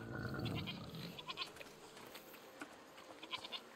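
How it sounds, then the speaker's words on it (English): Goats bleating in the video game A Plague Tale: Requiem, one short nasal bleat over a faint outdoor ambience with soft, scattered ticks and rustles, without any talking. "What's over there? Goats!"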